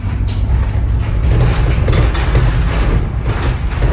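A loud old FedEx delivery truck engine runs nearby with a heavy, rattling mechanical clatter and a constant low rumble throughout.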